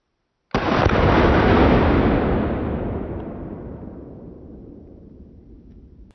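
A single loud, booming shot from an old black powder revolver, called a smoke wagon, fired outdoors at a yellow plate target, with a long rumbling echo that fades over several seconds.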